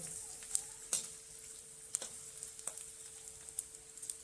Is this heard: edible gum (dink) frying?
yes